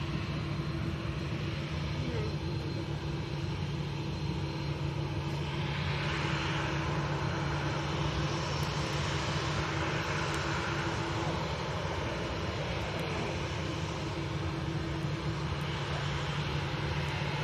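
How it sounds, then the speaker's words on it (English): A Lufthansa airliner on approach, its engine roar a steady, moderately distant broadband rumble holding level for the whole stretch, with a low hum underneath and no voices. "Got a Lufty that's sneaking up there"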